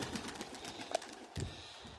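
Trained pigeons flying during a training session: faint wing flutters and a soft coo amid quiet outdoor ambience, with a couple of brief clattering taps, no talking.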